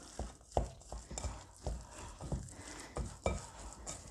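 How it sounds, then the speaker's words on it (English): Burger mince being mixed by hand with grated cheese and chopped onion gives soft, squelchy, irregular pats and slaps at close range, roughly two or three per second, with faint clinks from the bowl. "some grated cheese and half a chopped onion. And I'll mix it all up."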